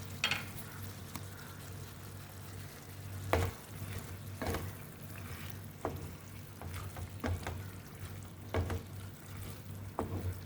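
Pasta and zucchini fry gently in a pan, a soft steady sizzle broken by occasional scrapes and knocks of a stirring utensil, close but fairly quiet, with no speech.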